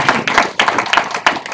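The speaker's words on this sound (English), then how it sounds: "More applause, please." Audience applause at an entrepreneurship talk, close, loud uneven clapping in quick bursts over a short stretch.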